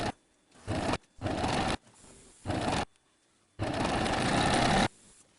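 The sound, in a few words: sewing machine sewing a straight stitch on fabric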